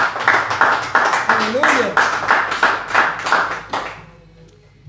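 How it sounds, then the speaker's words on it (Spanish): A church congregation claps in steady rhythmic bursts, about a dozen loud beats, while a voice calls out over the clapping before it stops near the end. "bríndenle un fuerte aplauso al Señor por eso"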